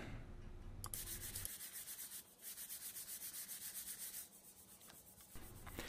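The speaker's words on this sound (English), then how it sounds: "and we'll sand it down and get a finish on it." Sandpaper rubbing back and forth over wooden golden ratio calipers, a quiet rhythmic scratching in repeated strokes with short pauses, heard close up and alone.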